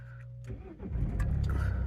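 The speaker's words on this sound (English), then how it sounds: "Press clutch pedal and start." A car engine cranks with the clutch pressed and then catches, settling into a low, rumbling run up close; no talking.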